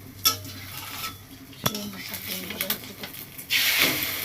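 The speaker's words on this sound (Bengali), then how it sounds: "এই তেল গরম করে তার মধ্যে ডিম ঢেলে দিলাম।" An egg frying in hot oil, a low sizzle with spatula scrapes and clinks against the pan, the sizzle swelling louder toward the end.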